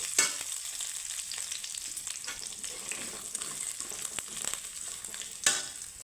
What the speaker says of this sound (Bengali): এখানে কিন্তু লো ফ্লেমে কিন্তু ভাজতে হবে বন্ধুরা না হলে কিন্তু পুড়ে যাবে